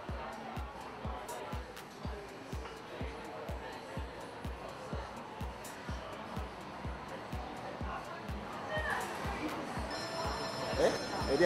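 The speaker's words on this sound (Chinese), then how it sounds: "电话，" A telephone rings in a repeating pattern of regular electronic trills, moderately loud indoors, followed by faint background voices and other household sounds toward the end.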